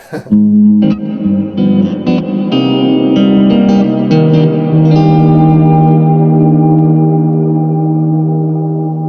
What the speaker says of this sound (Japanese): めっちゃディケイでかいホール